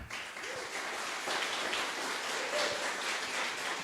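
A church congregation applauds steadily, a dense wash of clapping that sounds somewhat distant and subdued.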